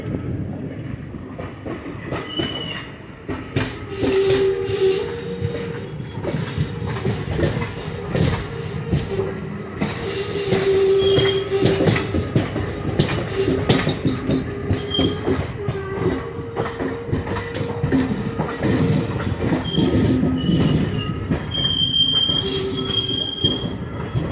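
A train with mixed coaches rolls past near Vijayawada, a loud and continuous rumble with rhythmic clickety-clack and high wheel squeals rising and fading over the full run.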